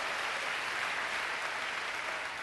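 Congregation at a church sermon clapping together in a continuous, even wash of applause that holds steady throughout without a break.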